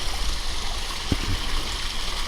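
A garden pond waterfall, partly overgrown with knotweed, pours steadily into a koi pond, a continuous close rushing and splashing wash of water with a brief low gurgle.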